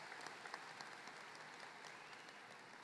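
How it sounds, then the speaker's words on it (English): Audience applause at a 2022 high school commencement ceremony in an arena, a dense, even roar of many hands clapping, distant and fairly soft, with no speech over it. "Give them a round of applause."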